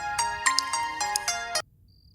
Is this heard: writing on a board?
no